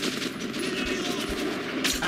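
Gunfire in Metro 2033 rattles in quick bursts over a steady game-audio bed, dense and close, with a sharper crack toward the end.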